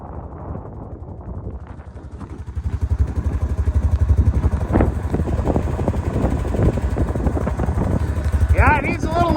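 Carbureted off-road motorcycle climbing a steep mountain trail at Cadomin Mountain, its engine pulsing loud and close with heavy wind buffeting the microphone, while a rider talks over the noise.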